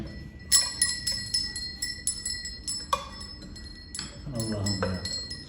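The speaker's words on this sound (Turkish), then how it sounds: "Sesi çok güzel. Koyun, koyun çanı gibi ya." A small bell like a sheep bell rings in light, tinkling jingles, several short bursts spread across the moment, with faint movement sounds between them.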